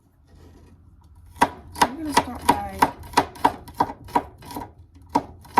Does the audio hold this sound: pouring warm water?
no